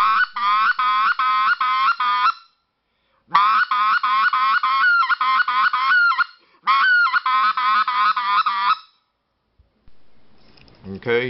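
Chaisson 3914 goose call blown hard to produce quick clucking honks, three rapid close-up bursts of repeated sharp notes separated by short pauses.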